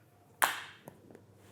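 Hand claps from someone during a relaxed youth ministry conversation, one sharp clap followed by a couple of softer taps and another clap, close and fairly quiet.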